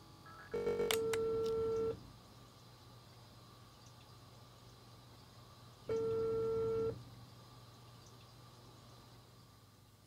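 Telephone tones from the video game Unheard: two long steady ringing signals about four seconds apart, separated by a dull low hum, with no one speaking.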